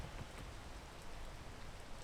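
Steady rain in a video game, a constant broadband hiss of falling drops and patter throughout, fairly quiet and even with no talk.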